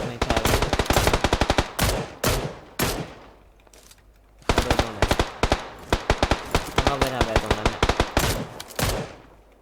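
Shotgun fire in a video game rings out as rapid bursts of loud, sharp blasts in quick clusters, broken by short pauses, with the volley picking up again after a gap.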